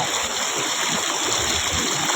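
Rain and running water make a continuous, dense rushing and splashing outdoors, steady and fairly loud throughout with no voices.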